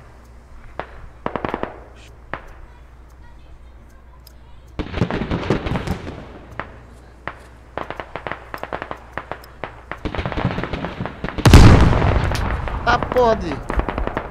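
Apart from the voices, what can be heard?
gunfire in a video game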